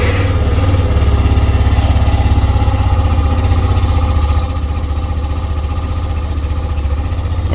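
A vehicle engine idles steadily with a low, loud rumble throughout, no talking.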